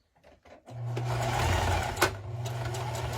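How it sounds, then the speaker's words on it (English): A sewing machine stitches around the brim of a felt snowman hat, a short steady whirring run close up after a few soft clicks, with no speech. "we need to sew around the whole outside of your brim"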